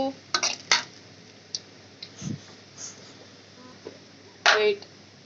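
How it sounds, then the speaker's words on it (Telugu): Chicken pieces are stirred with turmeric in a cooking pot, giving a few sharp, close metallic clinks and scrapes of a utensil against the pot, spaced irregularly over a quiet background. "తర్వాత పసుపు ఇలా కలిపేసుకోవాలి చికెన్ వేసాక"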